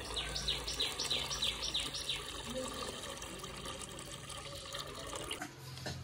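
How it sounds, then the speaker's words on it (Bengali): Rice is rubbed and washed by hand in water, with continuous close splashing and swishing and faint birds and insects chirping in the background, outdoors in heavy dew. "সুন্দর করে কচলায় ধুয়ে চাল একবারে পরিষ্কার করে দিচ্ছি।"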